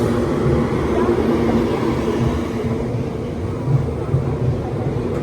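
A goods train rolls past at Itarsi Junction railway station, a steady low rumble and rattle of wagons that holds loud and even throughout with a few sharper clanks near the end.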